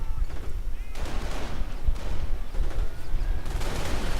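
Gunfire in a World War II strategy game, with Puma armoured cars firing on a captain during an M10 assault on a bunker: a dense, continuous clatter of shots and bursts with heavy low rumble throughout, loud and unbroken.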